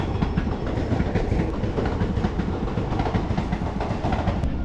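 A Chennai Beach to Kanchipuram EMU suburban train runs with a loud, continuous rumble and steady clickety-clack of wheels on rails, heard from on board with no talking.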